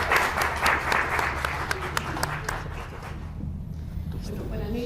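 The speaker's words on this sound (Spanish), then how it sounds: "un aplauso para Sergio por su publicación" Audience applause fills the room at a book presentation on Bolivian vinyl record collectors, steady clapping from a modest crowd over about five seconds, with some speech mixed in.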